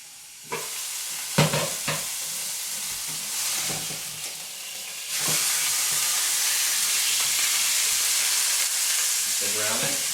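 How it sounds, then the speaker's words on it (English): Meat sizzles in a hot pan with a few clattering knocks as it is flipped to brown the other side, then a louder sustained frying hiss follows with no talking. "My meat is cooking now, you can see. I'm going to go ahead and flip it over so I can brown the other side down."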